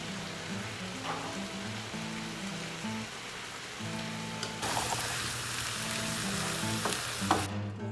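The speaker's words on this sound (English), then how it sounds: "And let's go ahead and put these mushrooms in." Mushrooms frying in a hot pan with kosher salt and seasoning, giving a steady close sizzle and crackle like light rain that grows louder partway through, with occasional stirring.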